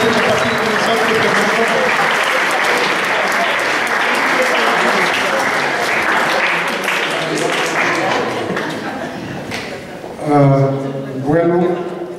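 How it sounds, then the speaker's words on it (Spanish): Students at a school science conference applaud loudly and steadily for about ten seconds before the clapping fades and a voice begins speaking near the end. "Y chicos, un fuerte aplauso nuevamente."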